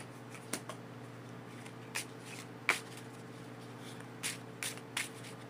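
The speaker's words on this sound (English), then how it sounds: "I'm going to pull one more card for that." Tarot cards being shuffled, sparse crisp riffles and snaps spread over a few seconds, close and quiet above a low steady background hum.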